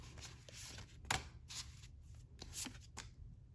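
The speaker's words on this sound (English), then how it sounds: "Just gonna shuffle." Tarot cards are shuffled by hand up close in a quiet room, giving a run of soft riffling bursts and papery slaps with brief pauses between them.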